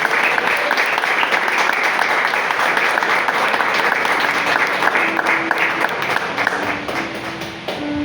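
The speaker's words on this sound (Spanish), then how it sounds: "Den un fuerte aplauso al Señor." A church congregation applauds vigorously, dense steady clapping close by that carries on without a break and fades slightly at the end.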